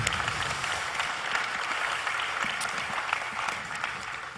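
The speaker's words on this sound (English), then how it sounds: "I propose we applaud all of them" A conference audience at the EAGE Paris 2017 opening ceremony applauds its panelists, a dense, even roar of many hands clapping that holds steady for the whole stretch before easing slightly at the end.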